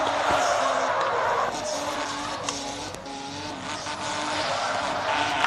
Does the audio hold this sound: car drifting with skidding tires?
yes